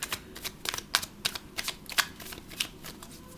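Tarot cards shuffled by hand in a quick run of crisp riffling bursts, close and clear, with no voices.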